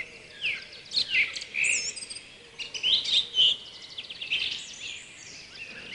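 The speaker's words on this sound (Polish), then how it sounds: "Gile nie tylko zachwycają swoim wyglądem, ale także śpiewem." Soft, piping bullfinch calls and short whistled notes come in scattered bursts over a faint background hum, fairly close and clear.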